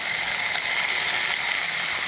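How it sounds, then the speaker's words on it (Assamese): Potatoes, already fried, going into a pan of sizzling pork and tomatoes for a pork and water spinach curry, giving a steady, loud, close hiss with no break or talk. "এতিয়া মই ফ্ৰাই কৰি থোৱা আলুবোৰ দি দিওঁ"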